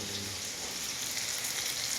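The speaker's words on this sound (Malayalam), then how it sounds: "മീൻ പൊരിക്കുന്നുണ്ട്" Fish frying in a pan: a steady, faint hiss and crackle of sizzling oil, continuous and even throughout, with no talk.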